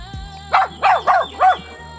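Pet dogs on a rural farm let out four sharp, close barks in a quick uneven run, each clearly separated by short pauses.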